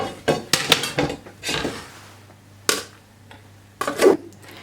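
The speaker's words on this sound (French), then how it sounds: "Je vais mettre un couvercle sur l'autre poêle." Metal lid and cookware handled on a frying pan, several sharp close clanks and clatters separated by pauses, the last a ringing knock of the lid settling.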